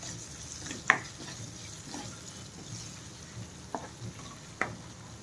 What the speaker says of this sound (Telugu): పచ్చివాసన పోయేంత వరకు వేయించుకుందాము.